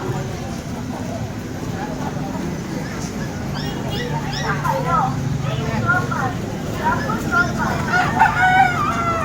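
Several chickens cluck and crow repeatedly, fairly close, at a weekend street pet market in Hulo, Malabon, over a constant hubbub of street noise and nearby chatter.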